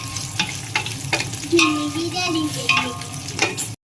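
Onion, ginger-garlic paste and green chillies fry in oil for biryani, a steady sizzle broken by several sharp stirring scrapes against the pan, close and fairly loud throughout with no talking.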